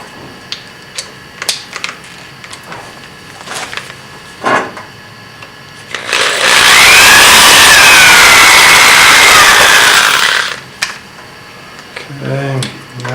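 A 15/64 inch drill bit bores into a Cub's lower door, giving one loud, continuous grinding whir of about four seconds, with scattered clicks and handling noises before and after.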